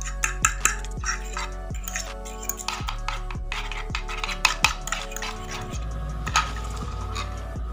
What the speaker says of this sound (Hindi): एक अंडा लेंगे, अच्छा सा फेंट लेंगे।